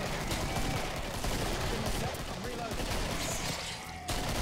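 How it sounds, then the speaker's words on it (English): A crowd of pistols firing at once in the co-op shooter Killing Floor, a dense continuous rattle of overlapping shots, loud and close, with some talk mixed underneath. "It's a fucking orchestra of pistols."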